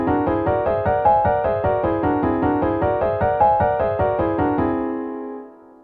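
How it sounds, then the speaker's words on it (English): Augmented triads played on a keyboard climbing up and down the whole tone scale, a steady series of evenly spaced chords in a regular rhythm that rings out loudly alone, then decays to silence. "If you were to play all the augmented chords up and down the scale"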